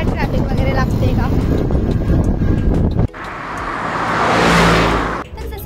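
A vehicle drives along a city road in traffic, with steady engine and road noise that gives way to rushing wind noise swelling and fading, under people talking in the first half.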